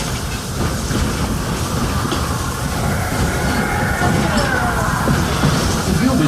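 An old-time steam train at Disney's Fantasyland runs along, its steady rail rumble and faint wheel squeals continuous and fairly loud throughout, with a voice partly heard over it.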